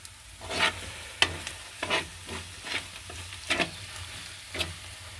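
Chopped ingredients being sautéed in a pan for a mango dish, with soft sizzling and several separate scraping strokes of a spoon stirring at an uneven pace, close by and fairly quiet.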